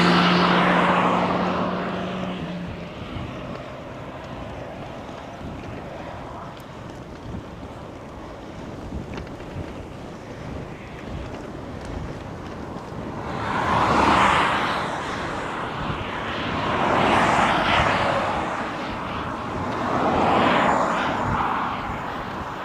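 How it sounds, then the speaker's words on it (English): Headwind roaring over the microphone while cycling uphill on a road in Belgium, a continuous loud buffeting rush with stronger gusts swelling toward the end, no talk. "Okay, we got a headwind on a climb."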